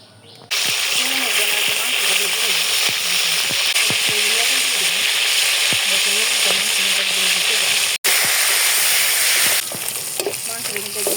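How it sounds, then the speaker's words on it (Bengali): Meat sizzles loudly and steadily in hot oil with salt, the noise close and continuous and broken only by brief stirring knocks. "লাল লাল করে লবণ দিয়ে ভাজলাম, যাতে একদম পারফেক্ট মাংস লাল লাল লাল করে একদম ভাজছি"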